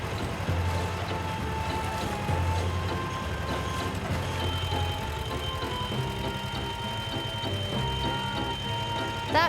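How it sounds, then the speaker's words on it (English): A beeping concrete depth measuring stick sounds at a building site where the ground floor is being finished, its repeated tones running steadily over heavy machinery and vehicle noise throughout. "That beeping sound you hear is from the measuring stick."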